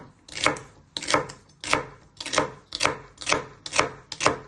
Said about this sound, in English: Then you're just going to finally slice them.